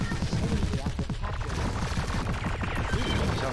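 Artillery and gunfire in the video game Armed to the Gears, a dense run of heavy, overlapping blasts and rapid bursts filling the whole stretch at steady loudness.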